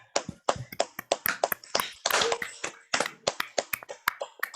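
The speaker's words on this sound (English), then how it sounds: "have some actual applause for a moment" Several poetry-reading participants on a video call unmute their microphones and clap at once, producing a ragged, uneven patter of close hand claps and taps that bunches into a brief dense burst midway.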